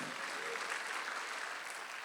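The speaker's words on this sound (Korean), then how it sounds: "박수를 치며 하나님께 영광을 돌리시라" Church congregation clapping during a Sunday worship service, a steady dense wash of applause that holds evenly from start to finish without any voices over it.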